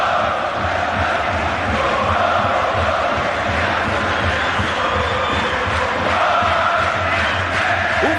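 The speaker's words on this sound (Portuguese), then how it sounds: "Olha a torcida do Atlético, sinta o Mineirão." Atlético-MG supporters roar in the packed Mineirão stadium during a Brasileirão match against Vasco, a dense, steady crowd din of cheering and chanting that holds loud and unbroken throughout.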